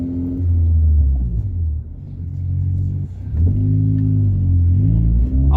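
Steady low engine rumble and road drone from a Honda car on lowering springs cruising at about 50 mph, rising slightly as it accelerates, heard from inside the cabin with no talk.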